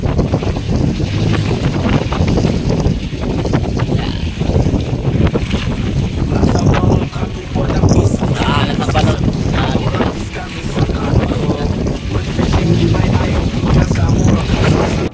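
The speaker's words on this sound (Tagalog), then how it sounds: "Grabe lakas ng hangin." Strong wind at sea buffets the microphone in a constant roar, mixed with the rumble of a boat engine and splashing water.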